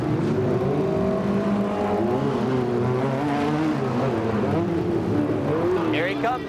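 Chevy sport trucks racing over the Thunder Super Jump at a Las Vegas Grand National Sport Truck round, engines revving and roaring loudly and continuously beneath an announcer's commentary.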